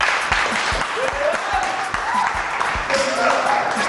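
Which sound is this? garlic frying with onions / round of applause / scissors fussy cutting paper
round of applause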